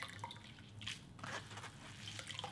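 Water drips and trickles from soaked red beans squeezed by hand in a kitchen while making sweet red bean filling, a few soft splashes and drips spread over a couple of seconds with no talking.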